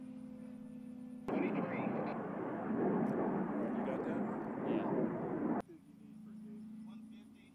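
A steady, loud engine roar from a small fire-spotting drone aircraft, cutting in abruptly and holding for several seconds before stopping sharply, with a lower hum before and after.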